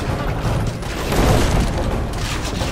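Cannon fire in Assassin's Creed Revelations, set in Constantinople, forms a loud, dense, continuous rumble of blasts that swells in the middle, with no talking.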